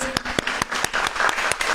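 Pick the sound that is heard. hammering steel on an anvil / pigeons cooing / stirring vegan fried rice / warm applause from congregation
warm applause from congregation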